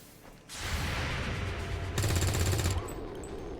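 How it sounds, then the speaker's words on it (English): Overwatch gunfire in XCOM 2, a sustained burst of rapid automatic shots starting sharply and intensifying mid-way, loud and close, then trailing off. "And we're getting 2 more Overwatch shots"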